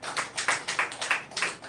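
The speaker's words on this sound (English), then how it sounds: "Please, let's clap for him." Audience applause at a software exhibition and industrial training defense, a small group clapping in uneven bursts, fairly close and brief with no voices.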